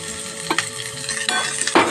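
Curry leaves, ginger and green chilli sizzling in a small amount of hot oil or ghee for tempering, a steady close frying hiss with a few sharper crackles and bursts of stirring.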